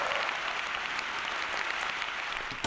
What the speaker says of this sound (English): Let's give them all a round of applause, shall we?